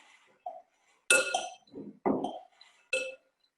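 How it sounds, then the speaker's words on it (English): A spoon stirs dry salad dressing ingredients in a bowl while preparing vegan Armenian food, giving a few separate, sharp clinks against the dish with quiet gaps between them. "So I just give the dry ingredients a nice stir."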